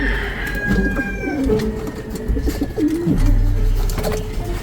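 Racing pigeons, including tiger grizzle birds, coo in soft repeated rolling calls close by. The cooing is heard alone, with no talk over it.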